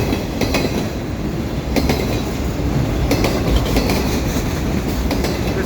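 A CN freight train hauling auto racks rolls past at Dorval in winter, a loud continuous rumble with rhythmic clickety-clack of wheels over rail joints and occasional faint wheel squeal, no voices.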